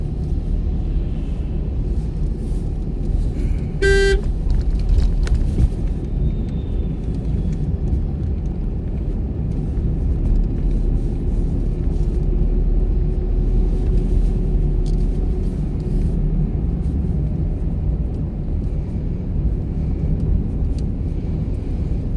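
A car moves along the road during a driving school lesson, with a steady low engine and road rumble from inside the cabin and a brief tonal beep early on.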